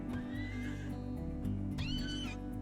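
A horse whinnies twice in a video game, the second call loud and drawn out, over a steady hum of background game music and ambience.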